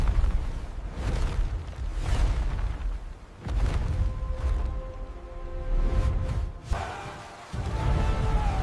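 Ship cannons fire a broadside during a stormy sea battle between a ghost pirate ship and a British Royal Navy vessel. Deep booms repeat over a constant rumble of wind and sea, with a faint tonal hum partway through.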